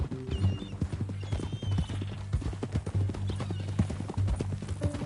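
Horse hooves clip-clop steadily in Red Dead Redemption 2, a continuous close rhythmic walking beat with faint background tones.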